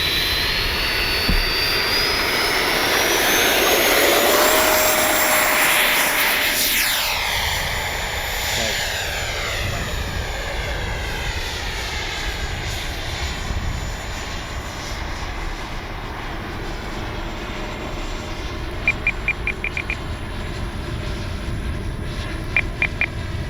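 An FMS 70mm F-18 RC jet with afterburner roars loudly in its turbine whine on a maiden flight, rising to a close pass and then fading with a sweeping pitch shift as it flies away, with a few faint clicks near the end.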